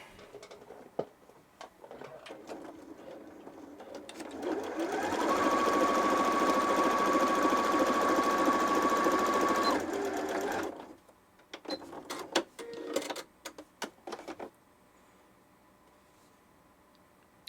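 A Janome sewing machine stitches steadily for about six seconds, a smooth even whir that rises, holds and stops, followed by a few scattered handling clicks and knocks.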